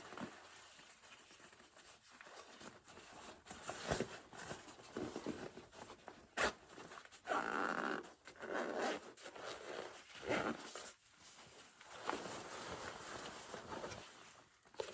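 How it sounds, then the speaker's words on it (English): An interior zipper on a camping bag pocket is drawn open in several short, close, crisp zips separated by soft rustling and handling, quiet and intimate with no talk. "you can use an interior zipper here"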